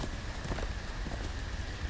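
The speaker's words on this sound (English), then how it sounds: "There goes my horse." Horse hooves clop in a quick, steady rhythm in the Telltale Game of Thrones video game, a moderately faint run of hoofbeats over a low rumbling background with no voices.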